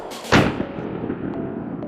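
A rifle fires a .357 Magnum round into a ballistic gel target, producing one sharp, loud report that fades into a short reverberant tail.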